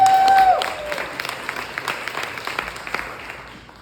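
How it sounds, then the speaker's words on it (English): An audience at a storytelling show at Madame Zuzu's breaks into applause, opening with a brief whistle-like tone, then settling into scattered clapping that gradually thins and fades. "Let's hear it from Madam Zuzu."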